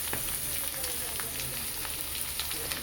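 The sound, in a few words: vegetables sizzling in a frying pan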